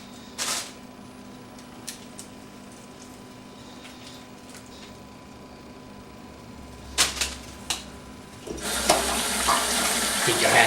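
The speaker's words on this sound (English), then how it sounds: "Keep your hands very washed, my friends, very washed." Tap water runs into a sink while hands are washed in a kitchen, faint and steady at first with a few sharp clicks and knocks, then swelling into a louder gushing stream near the end.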